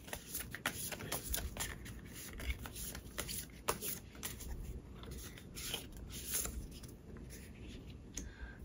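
Advice cards for a reading are shuffled up close. Quiet, rapid papery riffles and flicks come in short bursts, with no speech.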